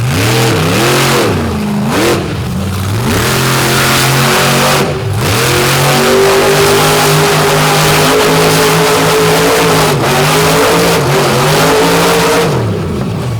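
A monster truck engine roars and revs hard on a clay track at a night show in Benson, North Carolina, its pitch climbing and dropping through repeated throttle bursts, loud and close throughout.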